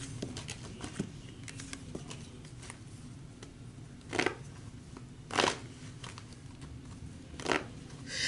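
Cards are shuffled close up, with a faint continuous riffling texture and three louder bursts spaced a second or so apart, and no talking.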